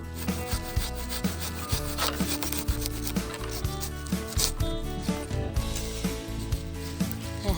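A pruning saw cuts through a persimmon tree branch in a steady back-and-forth rasp, close and loud, with no talk over it.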